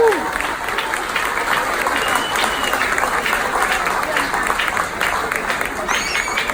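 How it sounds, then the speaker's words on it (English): Sustained clapping from a cruise ship dining room full of people, dense and steady for several seconds, with some voices mixed in under the applause. "give your wait staff a big round of applause"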